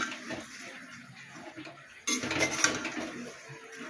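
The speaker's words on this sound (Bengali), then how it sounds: "দেখো চিড়েটা দিলাম, খুব বেশি তেল দিইনি, অল্প তেলেই ভাজছি।" Flattened rice (chira) fries in a little oil in a small wok, with utensil clatter and scraping from stirring. The frying turns louder and hissier about halfway through, and no one speaks.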